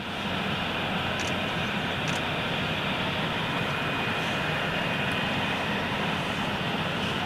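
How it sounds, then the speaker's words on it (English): Jet aircraft taking off, a steady loud roaring engine rumble with a faint high whine running continuously throughout, no voices heard. "Debbie Speller, great takeoff sound."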